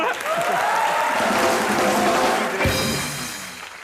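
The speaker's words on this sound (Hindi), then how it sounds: "वरुण के लिए जोरदार ताली हो जाए।" Studio audience on a Hindi comedy talk show bursts into loud, dense applause for Varun, a sustained wash of clapping and some crowd noise that tapers off toward the end.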